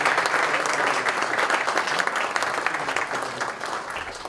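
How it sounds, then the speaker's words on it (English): An audience at a youth entrepreneurship challenge event applauds volunteers, a broad, sustained wash of many hands clapping together that holds steady for several seconds and fades slightly toward the end. "So a round of applause for all the volunteers."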